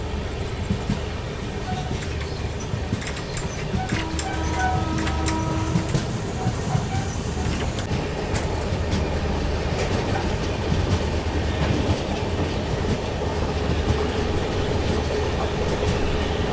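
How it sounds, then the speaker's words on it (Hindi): Passenger train running along the track at night on a nonstop Jaipur–Mumbai run, a steady continuous rumble with faint wheel clatter and occasional high squeals, close and even throughout with no talk. "यहाँ अपनी ट्रेन चल रही है"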